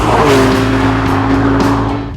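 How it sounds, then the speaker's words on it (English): A new Porsche 911 sports car with rear-wheel steering drives past close and loud, its engine holding a steady tone while the tires squeal and hiss against the road. The sound eases off slightly at the end. "does it still sound like a Porsche? The answer is yes, it does, but it's not as loud as it used to be"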